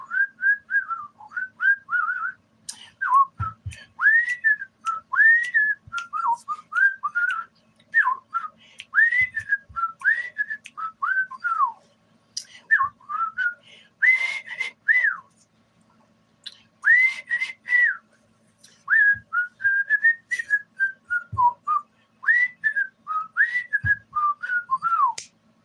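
A person whistles a tune alone, close and clear, in a long run of short melodic phrases with brief pauses and a few soft clicks and taps between them.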